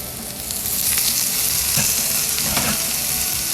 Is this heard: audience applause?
no